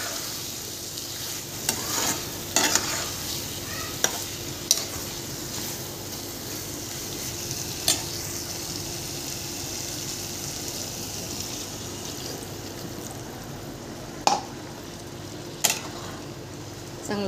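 Chicken curry being stirred in a pot, a steady simmering sizzle with scattered scraping clicks of the spoon against the pot, fairly close and moderately loud, with no talking.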